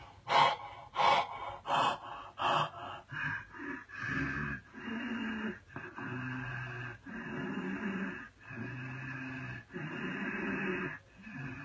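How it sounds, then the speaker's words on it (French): Bhastrika pranayama breathing with a constricted throat, rhythmic forceful snore-like inhales and exhales, starting with quick sharp pulses and then settling into longer, raspy, evenly spaced breaths close to the microphone. "ça doit faire comme un ronflement, un peu comme un baby Dark Vador"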